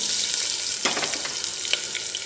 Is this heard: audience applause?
no